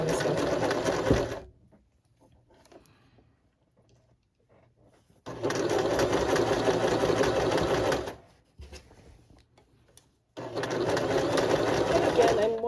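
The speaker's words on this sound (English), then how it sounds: "I'm going to begin by back stitching to the edge, and then I'm going to sew through" A sewing machine stitches a crotch seam in three loud, steady bursts separated by quiet pauses with faint handling noises.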